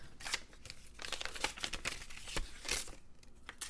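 Paper crinkles and rustles up close in quick, irregular bursts, like sheets being handled and shuffled, with no talking.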